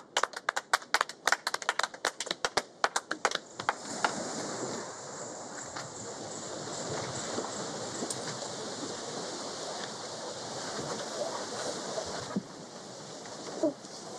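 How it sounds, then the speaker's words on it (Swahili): A small crowd claps for a person arriving, a burst of sharp, uneven hand claps over the first few seconds that gives way to a soft, breezy outdoor hiss. "Wapi makofi yake anapowasili?"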